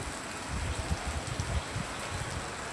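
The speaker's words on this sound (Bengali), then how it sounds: "বৃষ্টি আর বৃষ্টি চতুর্দিকে শুধু বৃষ্টি" Steady rain falling over a garden patch with cucumber and pumpkin vines, an even hiss of drops around the listener with soft low patters close by.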